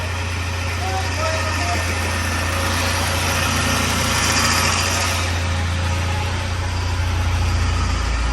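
Old vehicle engine running at a steady idle, a loud continuous rumble with vibration throughout, close by, with faint voices in the background.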